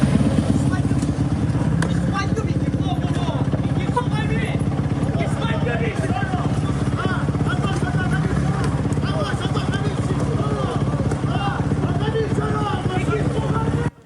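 A motorcycle pulls up on a Sicilian street, its engine a steady low drone under a continuous babble of nearby voices.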